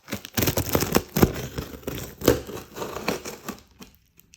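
Parcel of PLA+ 3D printer filament from GTS 3D being unboxed, with close, continuous crinkling and tearing of packaging in rapid, irregular rustles.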